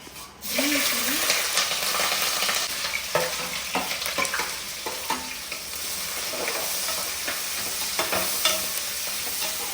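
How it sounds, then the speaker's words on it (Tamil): Onions sautéing in ghee for veg biryani, with a steady close sizzle and frying hiss under repeated scraping and clinking of a stirring spoon against the pan. "இதை நல்லா சாட்டே பண்ணிக்கலாம்"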